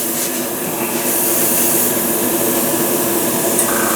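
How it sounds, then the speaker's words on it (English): Dark aluminum spray paint hisses onto picture frames in a loud, steady spray that runs unbroken and alone for the whole stretch. "We're going to spray these with dark aluminum"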